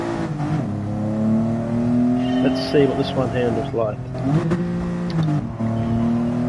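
Car engine in GT Sport revving steadily and shifting pitch through the gears, loud and continuous, with someone talking over it.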